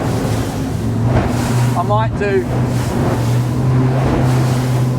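A speedboat powered by three Mercury V8 outboards, about 900 hp in total, drones loudly on a fast run, a steady low engine roar mixed with wind and water rush, and a person speaks briefly over it.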